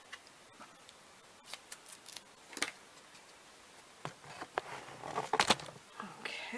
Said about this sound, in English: we're going to cut this in half.